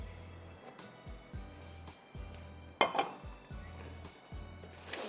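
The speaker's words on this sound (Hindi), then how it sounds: "ये मैं अपने ड्रॉपलेट्स निकाल के प्लेटर में डालूंगी।" Brownie droplets being placed onto a serving platter, a series of soft, evenly spaced clinks and taps of dishware and utensils, close and fairly quiet, with one sharper knock midway.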